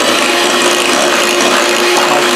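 An electric mixer whirs loudly and steadily while it beats cake batter, a continuous close buzzing drone with no pauses and no voices.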